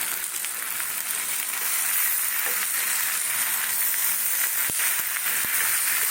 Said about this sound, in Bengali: অনেকক্ষণ কষাচ্ছি কিন্তু